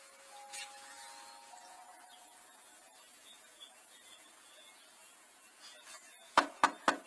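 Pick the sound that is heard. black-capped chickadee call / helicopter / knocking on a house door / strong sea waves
knocking on a house door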